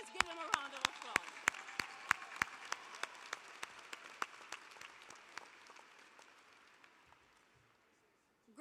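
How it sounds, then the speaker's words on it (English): Commencement audience applauding for graduating classes, sharp distinct claps over a dense wash of clapping that gradually thins and dies away to near silence. "let's give them a round of applause"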